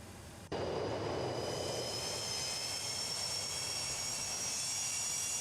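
Boeing 737-200 jet engines in a flight simulator game taxiing, a steady loud roar that swells in abruptly after a quieter half second, then holds constant with a high whine layered over the broadband rush, no voices.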